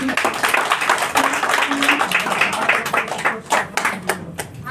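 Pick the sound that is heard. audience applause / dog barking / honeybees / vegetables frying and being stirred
audience applause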